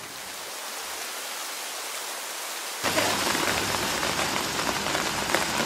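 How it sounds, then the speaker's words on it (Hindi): Steady monsoon rain hisses throughout, quieter at first and then suddenly louder and denser, like a downpour drumming on a surface nearby. "बारिश आ रही है, आज तो स्कूल कैंसिल।"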